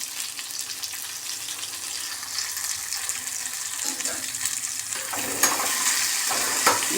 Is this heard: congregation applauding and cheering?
no